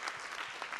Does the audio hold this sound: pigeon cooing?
no